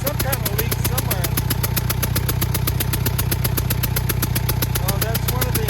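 Clark Perkins diesel forklift engine running with a loose front injector leaking, a loud, fast, even mechanical clatter close by that continues throughout.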